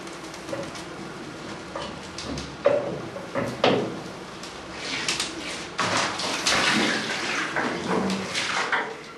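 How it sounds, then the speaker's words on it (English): Tap water running into a large wax-melting cauldron in a beekeeper's wax room, a splashing, irregular pour with knocks and clatters of the vessel, moderately close and without talk. "He uses tap water to help in the melting process."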